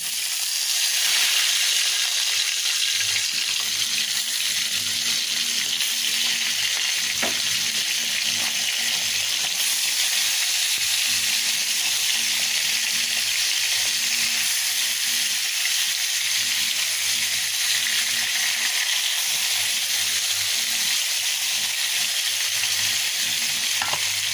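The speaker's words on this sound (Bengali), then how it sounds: "তেল গরম হয়ে গিয়েছে, আমি মাছগুলোকে ভেজে নেব।" Pieces of fish coated in turmeric and salt frying in hot oil, a loud, dense, continuous crackling sizzle that holds steady throughout.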